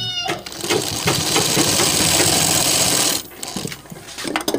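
Sewing machine attaching a collar on a neck design, running in a loud, close, steady stitching burst for about three seconds before stopping, followed by quieter handling sounds.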